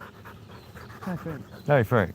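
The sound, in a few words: dog panting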